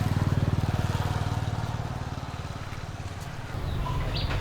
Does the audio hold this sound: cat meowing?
no